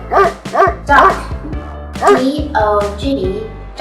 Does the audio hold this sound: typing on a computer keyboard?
no